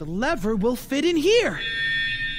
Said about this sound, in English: Maybe someone can rescue us if I can pull the fire alarm.